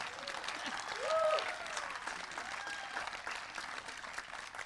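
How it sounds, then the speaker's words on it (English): An audience applauds after an eight-minute improvisation, a soft, steady patter of clapping hands from a small crowd, with a few brief voices and a whistle-like tone rising over it early on. "Let's give Cindy a round of applause for like an 8-minute improvisation."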